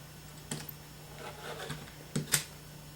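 A small rotary cutter slices along the edge of a fabric strip in a few brief crisp passes, with short scraping ticks spaced apart and a sharper double stroke near the end, close and fairly quiet.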